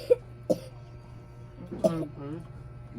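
A person coughs sharply three times, two quick coughs close together near the start and a third after a pause, with a faint mumbled voice following, over a low steady hum.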